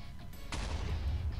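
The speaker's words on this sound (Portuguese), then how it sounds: "Vamos ver a explosão." A TNT block detonates in Minecraft, a sudden rumbling blast that starts abruptly a moment in and sustains its low roar to the end.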